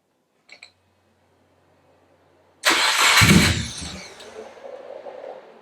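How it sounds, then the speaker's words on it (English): After a faint click and quiet, the engine of a Subaru WRX swapped with an STi engine cranks and catches with a sudden loud burst on its first start, then settles into a steady idle rumble. "Key off, key on, key off, key on, key off, key on, and then start it."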